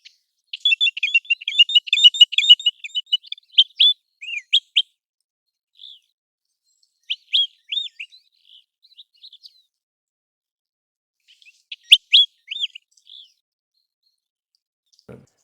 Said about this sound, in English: The call of American Golden Plover is one of most distinctive characteristic, especially during the migration and breeding season.